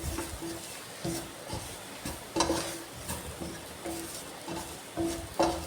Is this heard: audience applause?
no